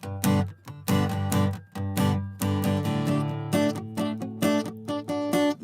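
Guitar chords strummed in a steady rhythm, loud and close, with ringing sustained notes between crisp strokes and no talking.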